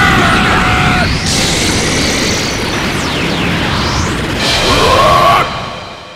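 Loud energy whooshes and sweeping beam sounds surge and fade, with rising whistling tones and a booming blast before cutting off: the Special Beam Cannon attack in the video game Dragon Ball Xenoverse 2.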